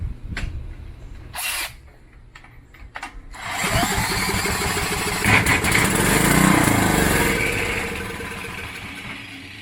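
A Coleman generator engine under repair sputters through a few short, faint cranking attempts, then catches and roars into a loud, steady running drone close by, with slight surging as it settles.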